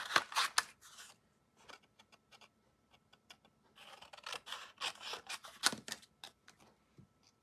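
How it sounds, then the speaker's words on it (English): Scissors snip through paper in short bursts of crisp cuts, close up, with pauses between groups of snips and no talking. "my scissors here and just do straight cuts"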